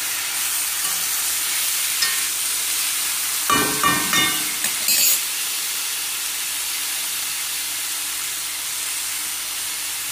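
Bitter gourd and onion sauté in a pan with a steady hiss of frying throughout, broken in the middle by a few seconds of louder scraping stirs against the pan.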